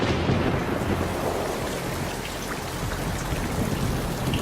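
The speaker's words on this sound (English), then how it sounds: "it rains methane" Methane rain falls steadily on Titan amid a low, rumbling roll of thunder, a dense, close hiss of drops over deep continuous rumble, dramatized as a documentary sound effect with no voices.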